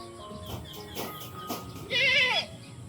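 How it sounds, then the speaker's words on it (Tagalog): Several goats on a farm bleat close by, with a few short calls early on and one longer, louder wavering bleat near the end, over faint outdoor background. "Ayan na po yung mga kambing ni tatay."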